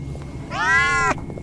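A cartoonish cat meows once in the horror video game CASE Animatronics 2: a single clear, rising-then-level meow lasting about half a second, close and loud over a quiet background.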